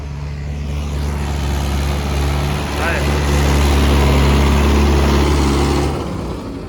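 A Mahindra tractor with an engine that will not shut off idles nearby with a loud, steady low diesel rumble, while people talk over it before the engine sound eases off near the end.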